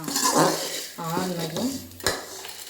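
Freshly sautéed pirandai (adamant creeper) chutney is scraped from the pan into another metal vessel, giving utensil clatter and a sharp knock, with a person talking throughout.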